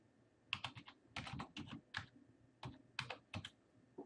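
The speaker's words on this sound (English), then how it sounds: "Then type in your response" Someone types on a computer keyboard in quick irregular bursts of clicky keystrokes with short pauses between them, close and fairly quiet, with no voices.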